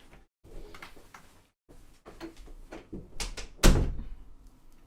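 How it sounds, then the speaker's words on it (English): An indoor door is shut with one loud, sharp bang near the end, preceded by softer rustling, shuffling and small knocks in a quiet room. "Oh, you shut the door."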